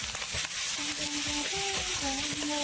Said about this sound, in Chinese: 锅里刚刚炒了一些鸡蛋碎，放入蒜末、葱花、小米辣。 午餐肉，胡萝卜丝、青菜